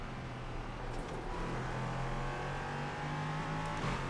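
An LMP3 prototype race car in iRacing drones steadily at high revs, its engine note rising slightly as it holds speed, continuous and fairly even throughout.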